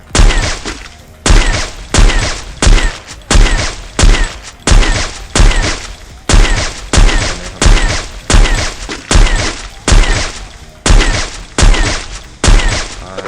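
Repeated AWM sniper rifle shots from a video game fire in a steady rhythm of about one blast per second, each a loud, booming crack with a short tail, continuing without voices.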